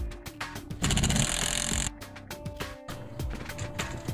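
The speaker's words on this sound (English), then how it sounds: "Snap in the drywall furring channel or hat track into the RSIC clips at right angles" Metal drywall furring channel, or hat track, snaps into RSIC soundproofing ceiling clips, giving a close series of sharp clicks, ratcheting rattles and metallic clatter with a short buzzing scrape in the middle.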